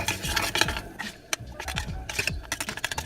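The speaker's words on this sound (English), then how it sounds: "And then mix it together." Melted chocolate and water stirred together in a bowl for a keto donut glaze, giving close, steady scraping and rubbing strokes in an irregular rhythm.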